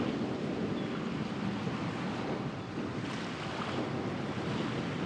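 Ocean waves surge and wash through an inlet on an outgoing ebb tide, heard from a boat offshore as a steady rushing roar mixed with wind buffeting the microphone.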